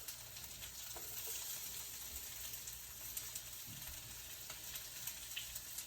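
Ground seasoning sizzles in a hot pot for teriyaki salmon, a faint, even frying hiss with occasional light stirring clicks, no talk.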